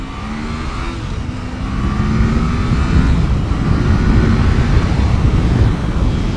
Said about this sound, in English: let's do a little acceleration test here in a minute from a start